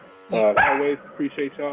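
A dog named Paris barks several times in short, close yelps behind a man's speech, the barks poking through as separate bursts near the end.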